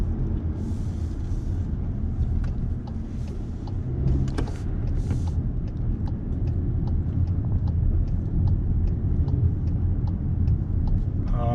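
A 2022 Cupra Formentor VZ drives in sport mode, heard from inside the cabin as a steady low road and engine rumble with faint, scattered ticks and clicks.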